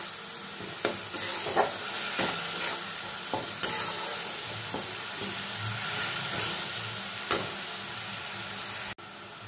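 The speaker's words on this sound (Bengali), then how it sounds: "খুব ভালো করে পেঁয়াজ আর রসুনটাকে ভেজে নেব" Continuous sizzle of onion and garlic frying in hot oil, punctuated by several sharp scrapes and taps of a spatula stirring the pan, close up.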